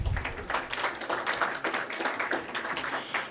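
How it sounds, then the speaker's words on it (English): Scattered applause from an audience at a chamber of commerce awards gala, a steady patter of hand claps with faint crowd noise, moderately near and fairly soft throughout. "Give Sean a nice round of applause."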